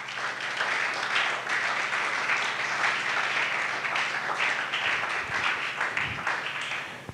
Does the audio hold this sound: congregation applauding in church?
yes